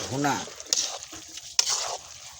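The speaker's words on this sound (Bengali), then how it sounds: "ভুনা দেখেন, একদম ভুনা করছি।" Spices and potatoes being stirred and fried in oil for bhuna, with soft scraping and a few sharp clinks of the utensil over a faint sizzle. A voice briefly speaks at the start.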